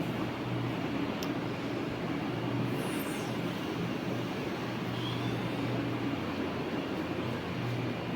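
Steady low rumble and rolling hiss inside a MEMU passenger train running at night between Punalur and Kollam, constant and moderately loud throughout with a brief high squeal midway.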